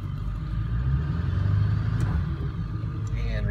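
A 1999 Ford F250 diesel pickup rolling slowly in four-wheel-drive low range, its engine a steady low rumble heard from inside the cab, close and continuous, with faint creaks near the end.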